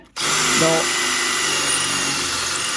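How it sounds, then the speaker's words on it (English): A power drill with dull bits starts abruptly and whines steadily at high speed, loud and close, running continuously without pause, while fitting front shock braces on a 1972 Chevrolet C10. "drill bits are getting dull."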